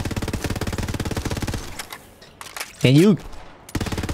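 Rapid automatic gunfire in Borderlands 3 sounds as a steady stream of close shots, then breaks off for a short gap with a brief tonal game effect before the firing resumes, while a voice speaks briefly.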